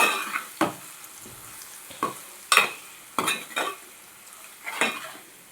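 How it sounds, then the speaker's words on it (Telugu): Chili powder being stirred into egg curry in a frying pan: a spoon scrapes and clinks against the pan in several distinct sharp strokes over a faint background sizzle, close by and with no voices. "కారం కూడా వేసుకొని ఒకసారి కలిపేసుకోవాలండి."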